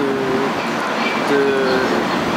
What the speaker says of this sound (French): c'est exactement le même TGV que celui qu'on a en France